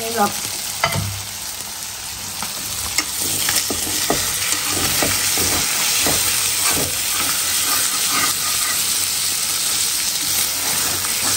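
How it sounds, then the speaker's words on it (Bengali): Hilsa fish curry sizzles and fries in a pan, with repeated scraping stirs cutting through a steady hiss of steam and bubbling oil, close and fairly loud throughout with no talk. "আর আমি একদম নাইরা করে ফেলছি, অনেকে বলছে এত লাড়াচড়া দিতে হয় না এই মাছে নাকি বলে"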